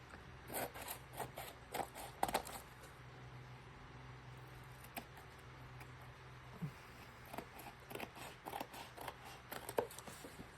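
Worn scissors snipping through gluey paper strips for a collage, a series of quiet crisp cuts and rustles in irregular bursts.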